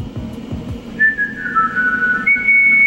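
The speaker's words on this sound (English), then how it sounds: "A little whistle." Clear, high melodic whistling rises over a soft, low musical backdrop in a song, carrying a short tune with sliding notes.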